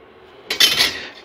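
A single quick metallic scrape and clink of a spoon in a pot as sugar is mixed into zarda rice, brief and close, with no talking.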